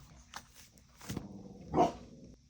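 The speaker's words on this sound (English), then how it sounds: "my dogs were barking" Dogs barking indoors in a home, a few separate short barks at moderate distance with quiet pauses between, no talking over them.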